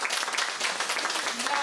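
An audience applauds after a talk at a public discussion festival, producing a dense, even crackle of many hands clapping throughout. A brief spoken word sits on top of it.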